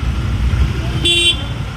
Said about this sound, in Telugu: చూసారా ఎన్ని కార్లు వచ్చినాయో